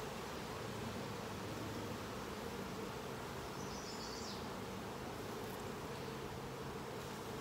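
Honey bees buzz steadily around an open hive during an inspection, a dense, continuous hum at moderate level with no voices over it.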